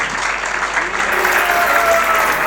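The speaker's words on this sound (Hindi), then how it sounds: "एक बार जोरदार ताली हो जाए हमारे" Loud, dense applause from a youth festival audience for the drama team after a devotional play, sustained clapping from a large crowd with a voice briefly audible beneath it.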